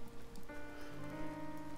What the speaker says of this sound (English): See, it's still raining just a tiny bit